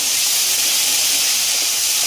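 Nigella seeds, green chillies and garlic sizzle in hot oil in a pan, giving a loud, steady, close hiss of frying that lasts a couple of seconds with no talking.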